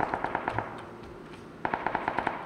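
Automatic gunfire in the PlayerUnknown's Battlegrounds video game: two rapid bursts of about six to eight sharp shots each, separated by a short pause, moderately loud at mid distance with no talk.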